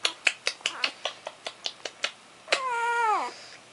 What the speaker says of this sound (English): That's a kissing sound.